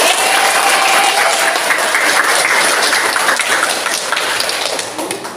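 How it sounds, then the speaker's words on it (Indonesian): A crowd claps steadily and continuously, a dense wash of applause that fades slightly toward the end, with no one talking over it. "tepuk tangan kalian"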